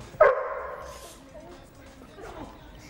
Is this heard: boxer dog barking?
yes